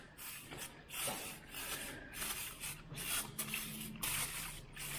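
Degreaser sprayed onto a mini excavator in bursts, close hissing sprays with short pauses between them, about eight or nine squirts over a few seconds.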